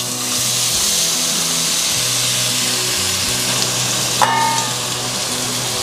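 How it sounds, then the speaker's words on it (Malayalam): Rice and cloves frying in hot ghee for prawn biryani give a steady, even sizzle that carries throughout, with a brief sharp clatter of a utensil partway through and no speech. "ഈ റൈസും നമ്മളിട്ട ഗ്രാമ്പൂവും അതെല്ലാം കൂടെ ഒന്ന് ആ നെയ്യിൽ ഒന്ന് ഫ്രൈ ചെയ്തെടുക്കണം"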